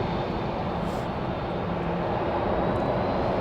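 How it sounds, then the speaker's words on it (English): An airliner taxiing fast at Dallas Love Field airport, a steady, fairly close jet engine roar with broadband rumble that holds level throughout, with no voices over it. "This one wasting no time, taxiing as fast as it can."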